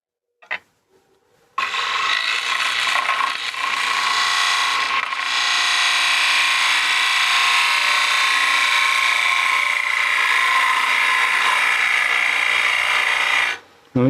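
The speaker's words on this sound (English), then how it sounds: "I'm going to come in with this bowl gouge and get that shoulder and just continue that transition around into the bottom of my bowl" A bowl gouge cutting a wooden bowl on a lathe, a steady loud scraping hiss that runs continuously for about twelve seconds after a brief start, then stops abruptly.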